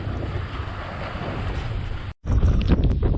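Wind buffets the microphone on a breezy shoreline day at a North Shore resort, a loud continuous roar that cuts out for a moment and then returns gustier.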